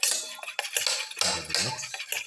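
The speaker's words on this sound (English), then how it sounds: "Mix the yellow and the white portion of the eggs together." Egg yolks and whites are whisked together in a bowl, with light, irregular clinks and scrapes of utensil against the dish in short close bursts.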